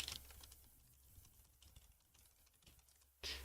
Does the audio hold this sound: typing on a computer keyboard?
yes